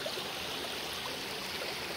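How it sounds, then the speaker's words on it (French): A river flowing in a steady, even rush of water that fills the whole stretch at a soft, constant level, with no voices over it. "J'ai regardé la rivière."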